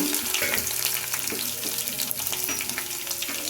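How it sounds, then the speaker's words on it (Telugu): Cumin, mustard seeds and crushed garlic frying in hot oil in a pan for rasam, a steady close sizzle with light clinks and stirring throughout. "కొంచెం కరివేపాకు కూడా చల్లుకొని బాగా ఫ్రై చేసుకోవాలి"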